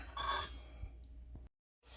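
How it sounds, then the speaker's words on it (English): Keto bread batter being mixed by hand in a bowl, a few soft scraping and rubbing strokes, close and fairly quiet, then a brief silence before the scraping resumes. "Mix it real good all the way until it's a beautiful batter."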